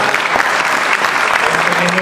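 Dense, loud applause from an audience at a general assembly of a political movement in Rome, steady clapping filling the whole stretch with a crowd murmur beneath.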